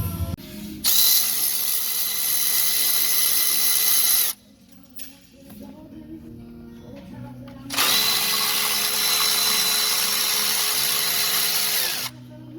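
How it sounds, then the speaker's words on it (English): A Milwaukee power ratchet works on the timing case of a 60 series 2H diesel engine during a pump removal. It buzzes in two long, loud bursts, with brief lighter whirs between them. "If you don't have a Milwaukee ratchet and you work as a mechanic, you need to get one of those ratchets."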